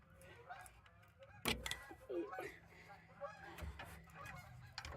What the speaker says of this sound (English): Geese. Geese.